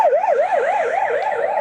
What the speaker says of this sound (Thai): เสียงรถของหมอมาทางหลัง